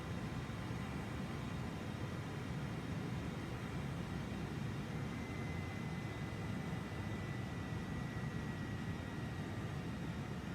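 Harrier II jet engine in MSFS 2024 over Cleveland, a steady broad roar that stays even and fairly quiet throughout, with no clear rise and no voices.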